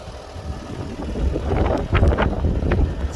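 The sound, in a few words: wind blowing into the microphone outdoors by a car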